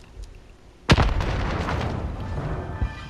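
A grenade in the shooter game Call of Duty Warzone goes off with one sharp, loud blast, then a rumbling tail over low background noise; a second, smaller thump comes near the end.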